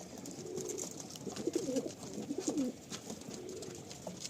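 Pigeons coo softly inside a loft, several low throaty warbling calls overlapping in the middle, with faint rustling and background hum around them.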